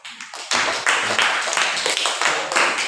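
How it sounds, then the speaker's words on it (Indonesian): A classroom group gets a short burst of clapping, many hands close and loud for a few seconds, with a voice briefly audible at the very start. "tepuk tangan buat kelompok"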